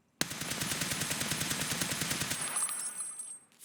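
Rapid burst of FAL rifle fire in a video game, about two seconds of fast, loud, evenly spaced shots cutting off abruptly, followed by a short ringing tail and a faint mechanical click.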